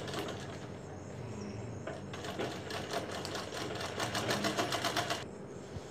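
A sewing machine stitching a blouse runs in a steady, rapid burst of needle strokes for a few seconds, fairly quiet and close, with faint room noise before and after and no talking.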